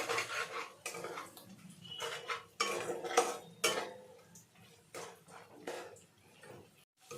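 Salt and turmeric being mixed into spice paste in a pan: repeated clinks and scrapes of a metal spoon against the pan in an irregular stirring rhythm, close and fairly quiet.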